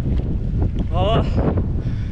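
Strong, cold wind buffets the microphone of a touring cyclist on an open road between Sivas and Erzincan, a loud continuous roar with gusty rumble throughout.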